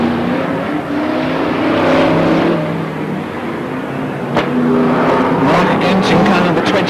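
Brisca F1 stock car racing engines roar loudly and continuously at a 1992 Northampton meeting, several cars revving and surging together as they pass close by.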